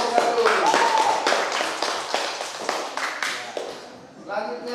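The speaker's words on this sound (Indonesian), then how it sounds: "mari kita tepuk tangan untuk kelompok 1" Classroom applause for a student group, a burst of scattered clapping from a room of pupils with vertical tap-like claps under a teacher's voice and chatter, fading near the end.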